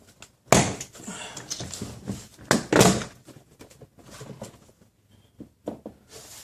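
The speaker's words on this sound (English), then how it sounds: "now it's time to take this door panel apart so we can assess any other issues." A car door panel is pried and pulled apart, giving a series of sharp plastic thunks, clicks and rattling snaps close by, with quieter fumbling between the louder pops.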